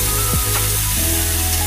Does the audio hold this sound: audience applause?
no